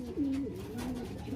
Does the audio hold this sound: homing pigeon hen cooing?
yes